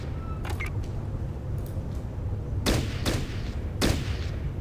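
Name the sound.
gunfire from squad firing line in Fallout Tactics video game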